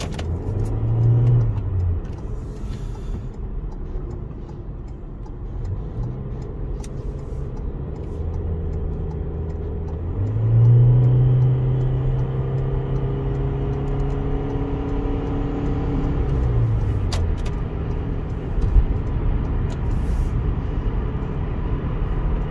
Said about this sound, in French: tu vas entendre un petit peu les accélérations et la vitesse d'accélération